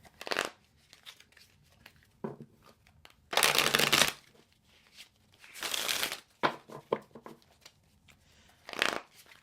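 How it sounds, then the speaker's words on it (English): Tarot cards being shuffled in bursts of papery riffling and rustling, with a few loud shuffles separated by quieter card handling and taps, close up with no talking. "we're going to go ahead and just shuffle"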